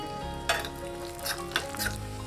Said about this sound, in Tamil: லேசாக முந்திரி வறுபடட்டும். இது கூடவே திராட்சை சேர்த்துக்கலாம். திராட்சையும் வறுத்துக்கலாம்.